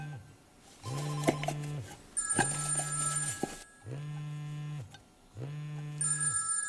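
A telephone rings in four repeated bursts, each a warbling electronic trill about a second long with short gaps between, clear and fairly close with no talk over it.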